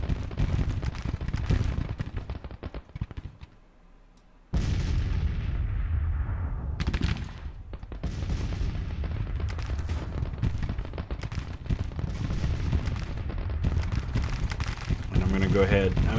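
Civil War-era howitzers fire in a strategy game battle, heavy booming reports breaking in over rumbling battle noise, one sharp blast cutting through after a brief lull, while someone talks over the action.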